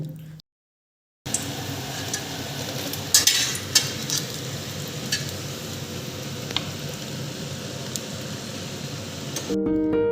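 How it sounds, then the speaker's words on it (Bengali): Bottle gourd peel fritters frying in hot oil give a steady, close crackling sizzle with occasional brighter pops and light stirring clinks, broken by a short silent gap near the start. "এইভাবে আমি সবটি ভেজে নেব"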